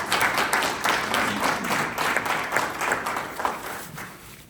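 Audience applauding veterans at a First Fridays community presentation, with loud sustained clapping from a room full of people that holds steady and then begins to thin toward the end.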